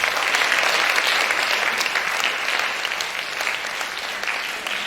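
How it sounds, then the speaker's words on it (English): Sustained audience applause fills an indoor hall at a school astronaut talk, dense steady clapping from a sizeable crowd that holds loud and even for the whole stretch, easing only slightly toward the end. "Round of applause."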